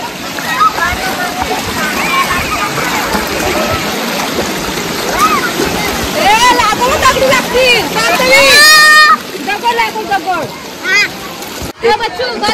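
Water rushes and splashes at a waterfall in a constant broad wash, close and loud, beneath lively chatter from a family group.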